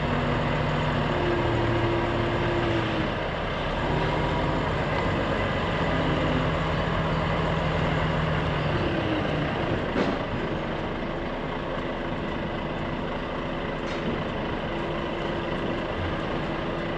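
Heavy truck engine idling and rumbling steadily while reversing a trailer during a fish haulage run, with a few brief clunks and shifts in the low drone, fairly close and continuous throughout.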